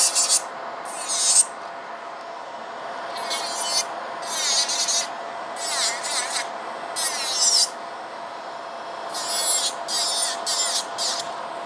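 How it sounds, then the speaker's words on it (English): A nail file rasps across glitter gems on a fingernail during a glitter ombre manicure, in about eight short, brisk bursts of scraping separated by brief pauses, close and fairly quiet. "Okay, so the gems which are on the top, I'm filing that direction."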